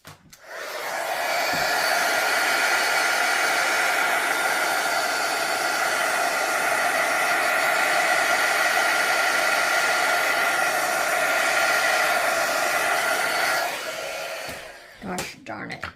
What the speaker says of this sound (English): I'm going to get my heat gun.